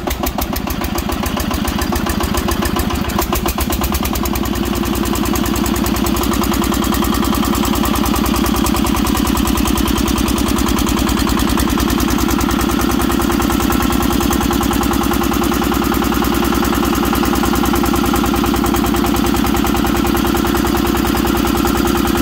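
A small engine is cranked into life, then settles into a steady, loud mid-pitched running drone that holds evenly throughout without clear rev swells.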